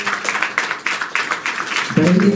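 An audience claps steadily to welcome a guest at a spiritual centre gathering in Gwalior, a continuous run of hand claps with a voice joining near the end.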